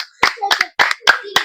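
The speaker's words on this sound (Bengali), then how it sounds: "সায়নের জন্য হাততালি হোক" A few scattered hand claps ring out for a winning player at a number-guessing game for cash prizes, in short uneven bursts mixed with voices talking.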